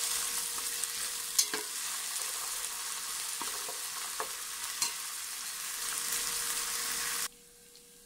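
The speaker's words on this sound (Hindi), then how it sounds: "अब हम इसमें डाल देते हैं अदरक लहसुन का पेस्ट" Ginger garlic paste fries with browned onions in a pan for moong masoor dal, a steady close hiss and sizzle with occasional faint clicks of stirring before the sound drops away abruptly near the end.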